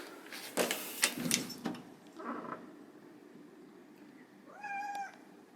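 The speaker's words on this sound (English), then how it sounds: "There's that meow." Rustling and knocking noises at first, then a single clear cat meow near the end, fairly close and moderately loud.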